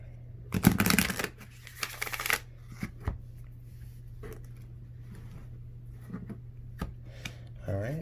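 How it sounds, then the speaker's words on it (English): Oracle cards from a Moonology deck being shuffled up close, a dense riffling burst followed by scattered soft taps and card flicks over a steady low hum. "get one more shuffle"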